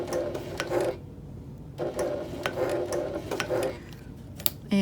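A sewing machine stitches slowly along cording on a rolled tote handle in short bursts separated by pauses, with a few ticking mechanical clicks, close up and without speech.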